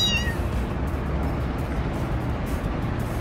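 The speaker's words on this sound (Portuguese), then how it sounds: "Parece miado de gato" A single short cat meow sounds at the very start and then fades into a steady, loud rush of broadband background noise.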